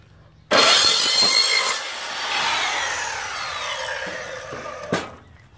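An Evolution EVOSAW180 7-1/4-inch circular saw slices through aluminum pipe in a loud, steady cut of about four seconds that starts abruptly, varies slightly in pitch, and ends with a brief final clunk as the blade winds down.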